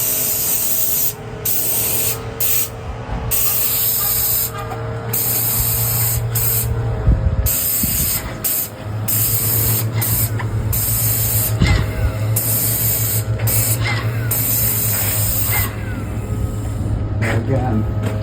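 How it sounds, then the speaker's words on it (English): Paint sprayer hissing steadily in long continuous passes along a house fascia during a full exterior repaint, close and loud with short pauses between strokes and a faint mechanical hum underneath. "I can spray the fascia without spraying the gutter"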